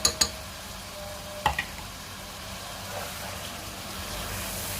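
Ground spices fry in a pan with a low, soft sizzle, and a few sharp clicks and scrapes of a utensil come near the start.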